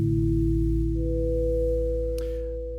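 A Fors Chiral synthesizer oscillator holds a soft, steady sine-wave tone, alone and at a subtle level. A second, higher pure tone joins after about a second and sustains with it, and a faint click comes near the end.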